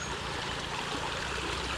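A creek flows steadily nearby, a continuous bright rush and trickle of water over rocks with no pauses, heard close and alone.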